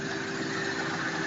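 A car engine holds a steady idle at a slightly raised speed during a camshaft phaser solenoid test, with a constant hum and a faint tonal whine running evenly throughout, no speech.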